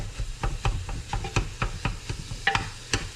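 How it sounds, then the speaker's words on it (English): Finely chopped meat is worked in a hot pan with a utensil, giving repeated close scraping and tapping strokes over a constant sizzle. "You just want to chop up your meat really fine."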